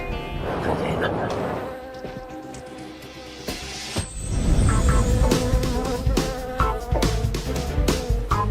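Wasps buzz loudly and close, a dense insect drone with fluctuating pitch that swells and fades. Scattered knocks and clicks punctuate it.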